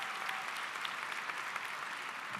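A large audience at a high school graduation ceremony in Bethesda applauds continuously, a thick, even roar of clapping with no speech.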